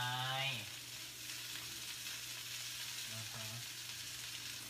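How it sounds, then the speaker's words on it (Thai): Carrot and vegetables stir-frying in a pan at a home kitchen, a steady broadband sizzle running throughout with a few soft stirring clatters, close and fairly loud. "ผัดมันไป"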